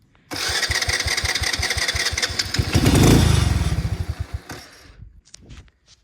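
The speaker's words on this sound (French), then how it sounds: "j'ai un démarreur électrique" A motorcycle bought in Vietnam starts on its electric starter and runs with a loud, rapid putter that revs up briefly, then sputters and dies after about four seconds, leaving a few faint knocks.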